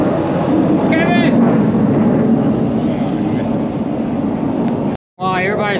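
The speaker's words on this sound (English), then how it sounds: "the F-22 Raptor is out flying" A F-22 Raptor jet at the Reno Air Races roars overhead as a loud, continuous broadband rumble that fills the scene, cutting out briefly near the end before resuming with people talking over it.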